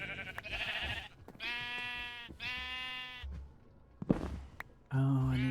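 Sheep bleat in a video game in a few drawn-out wavering calls with gaps between them, fairly close, mixed with a thud and other game noises.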